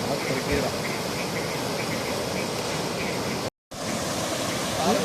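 A steady, loud roar of rushing floodwater during Cyclone Fengal fills the scene continuously, broken only by a brief dropout, with a voice faintly heard over it.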